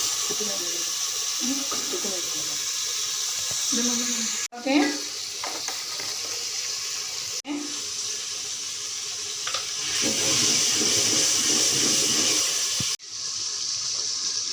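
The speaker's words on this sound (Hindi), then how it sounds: "हरी मिर्च और टमाटर डालते हैं। इनको भूनने के बाद अरबियाँ डालते हैं।" Green chillies and tomatoes frying in a pan for arbi salan, a steady close hiss and sizzle with occasional stirring scrapes and clinks, running throughout without talk.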